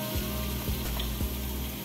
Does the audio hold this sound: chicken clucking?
no